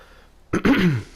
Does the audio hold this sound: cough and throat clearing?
yes